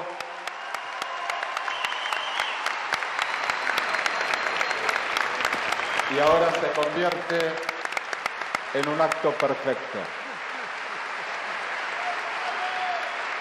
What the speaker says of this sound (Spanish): que suene el aplauso